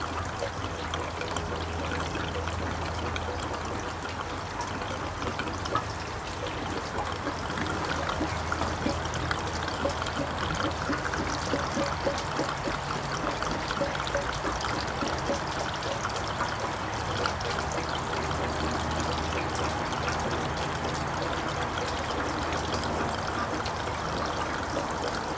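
Fuel trickles and dribbles steadily from a plastic can spout into the tank of a John Deere 2032R compact tractor, a continuous low pour running without a break and no talk over it.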